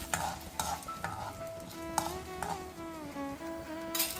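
Urad dal sizzles in hot coconut oil in a pan for chutney, a soft crackling fry with light scraping and stirring clicks, fairly quiet and without speech.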